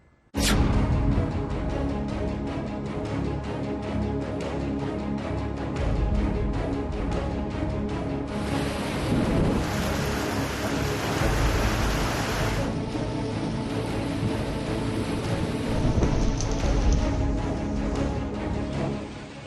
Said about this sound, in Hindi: देश के कई हिस्सों में मानसून की अच्छी बारिश हो रही है।